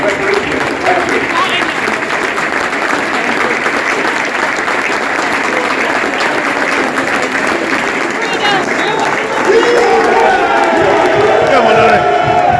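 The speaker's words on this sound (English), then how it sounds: "With its applause in memory and celebration of Paddy." A large football stadium crowd claps steadily and loudly, a broad wash of applause in a big open space, with some cheering rising near the end.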